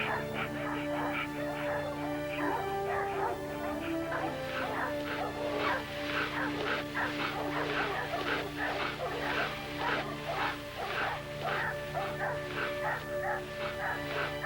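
A hunting dog barks, yips and whimpers repeatedly while chasing a cougar, excited rapid calls rising over a droning musical background, with a voice speaking at times.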